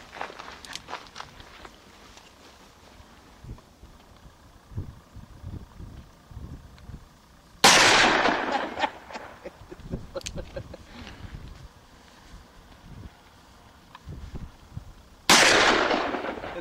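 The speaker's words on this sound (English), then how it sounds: "There's a gunfight going off." Gunshots at a Kansas Thanksgiving gathering ring out as two loud, sharp blasts several seconds apart, each with a decaying tail, amid footsteps, shuffling and quiet activity.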